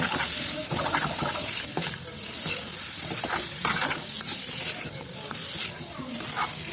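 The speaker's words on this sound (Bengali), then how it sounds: "মশলার লগে চিকেন আর অল্প সময় ভাজুন" Chicken pieces fry with spice masala in a hot pan, crackling and sizzling continuously while a spoon stirs and scrapes in repeated strokes, close and fairly loud.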